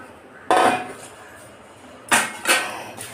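A spoon or utensil knocks and scrapes against a bowl while coconut and sugar powder are mixed into a sweet filling, with a few sharp clinks separated by quiet pauses, close and fairly loud.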